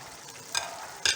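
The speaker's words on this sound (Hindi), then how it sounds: "और मिक्स कर लेती हूँ, मिक्स करके इसको दम पे रखती हूँ।" Vegetable pulao with capsicum and fenugreek leaves being mixed in a pot, with two quick close scraping strokes over a faint steady background and no voices.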